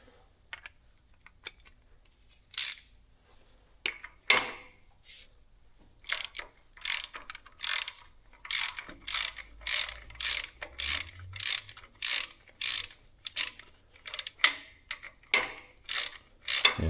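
A ratchet wrench on an extension turns bolts on a Cummins diesel engine, a series of sharp clicking bursts in quick rhythmic strokes, close and alone, with short pauses between runs.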